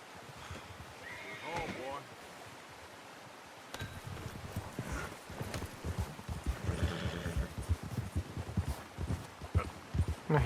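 A horse in the video game Red Dead Redemption 2 whinnies, then its hooves clip-clop in a quick, uneven rhythm close by, with rustling in the background.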